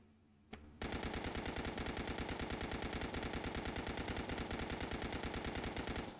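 The Gut Stitcher SMG fires in the Dead Frontier video game, one sustained rapid burst of evenly spaced shots lasting over five seconds, loud and close, after a brief click.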